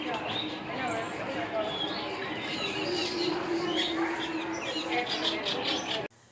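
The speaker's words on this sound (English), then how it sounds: "Oh, the bird sanctuary." Birds chirp and call throughout the Animal Kingdom bird sanctuary, a steady mix of small tweets over a busy outdoor wash of ambient noise, cutting off abruptly near the end.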